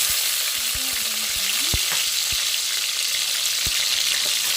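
Curry leaves and onions fry in a pan with a loud, steady, crackling sizzle, a few sharp spatula knocks in the first two seconds, and no speech.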